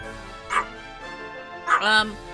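Two barks from a dog at home ring out about a second apart, loud and close, while someone speaks over a video game in the background.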